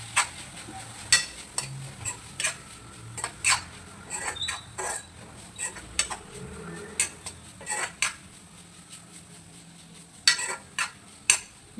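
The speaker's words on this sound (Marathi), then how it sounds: "आणि सगळं मिक्स करून घेऊया." Spiced green bean mixture with coriander powder, garam masala and red chilli gets stirred in a pan, the spoon knocking and scraping against the metal in irregular close clatters over a faint sizzle, without talk.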